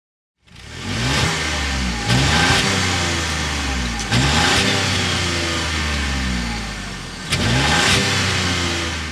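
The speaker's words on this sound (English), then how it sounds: "start up this Ecotec three-cylinder turbo so you can hear that exhaust" A 2024 Buick Envista Avenir's small Ecotec three-cylinder turbo engine cranks and catches, then revs up and settles repeatedly, with a throaty exhaust note rising and falling several times.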